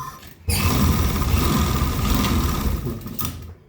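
Sewing machine stitching a gatra strap, starting abruptly with a loud, close, steady mechanical whir that runs for about three seconds and then cuts off.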